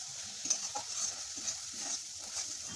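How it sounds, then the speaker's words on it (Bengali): A spice mixture with whisked yogurt is stirred in a frying pan, a soft steady sizzle with gentle scraping strokes of the spoon repeating about twice a second, quiet and close. "দইটা দিয়ে ভালোভাবে মিশিয়ে নেব।"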